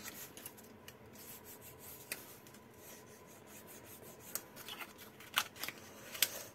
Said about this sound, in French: On va plier tout ça.